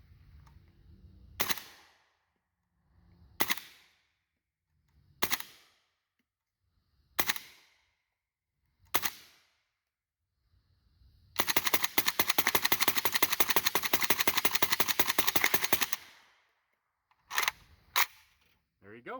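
A KNS piston AK rifle fires Brown Bear subsonic 7.62x39 rounds outdoors, with five sharp, evenly spaced single shots, then a sustained rapid burst lasting several seconds, then two more single cracks. The shots are close and punchy.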